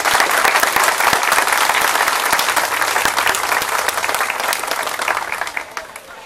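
At an outdoor anniversary ceremony in a station square, with a military battalion and a music band present, the crowd breaks into a brisk round of applause, loud at first and tapering slightly over six seconds.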